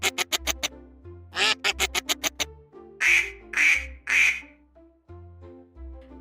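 A duck quacks loudly and urgently as a fox attacks it at midnight, with rapid bursts of quacks and harsh squawks, then strained cries trailing into quieter, intermittent calls.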